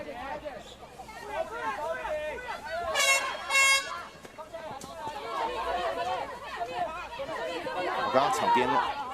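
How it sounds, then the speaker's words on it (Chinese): At the sideline of a national ultimate frisbee championship match, an air horn sounds one loud blast of about a second, partway through steady talk from commentators and a murmuring crowd. "刚刚场边有鸣笛啊"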